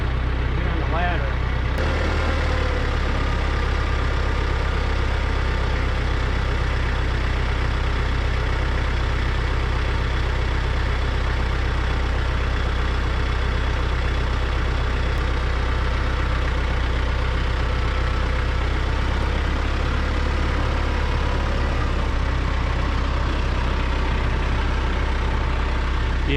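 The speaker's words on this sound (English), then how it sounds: "I'm hoping I can do it with the tractor." A farm tractor's diesel engine idles steadily while its loader lifts during pole barn post setting, a continuous low rumble held at an even level throughout with no talk over it.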